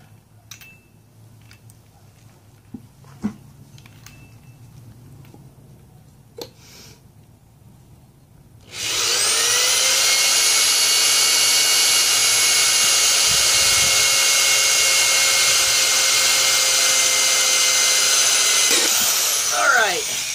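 A drill bit bores a hole through an angled clay pot. Faint clicks and quiet handling come first, then a loud, steady, high-pitched drilling whine runs close and continuous until the bit breaks through.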